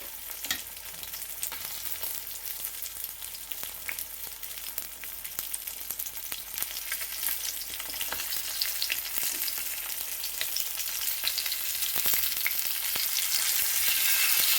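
Fish curry simmering covered on a low flame in a pan, giving a steady, continuous sizzling and bubbling that grows slightly louder over time, close by and with no talk.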